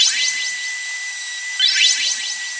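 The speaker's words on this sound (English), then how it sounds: "now do a little bit of smoothing up on these with the 220." Wooden coasters being sanded with 220-grit sandpaper. A steady, close, high whine runs throughout and surges briefly near the end, with no talking.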